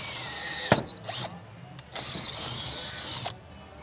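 A power drill whirs in several short bursts separated by pauses, drilling a hole in the floor, with a sharp click at the start; close and moderately loud.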